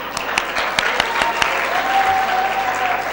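An audience at a satsang camp gathering claps steadily, with individual hand claps audible near the start and a dense round of applause continuing to the end.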